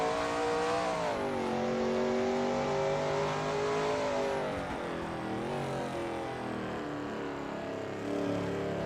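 A Shelby Mustang GT350R engine on the Sebring circuit in a racing video game, a loud close steady drone with pitch rising and falling through gear changes and throttle shifts.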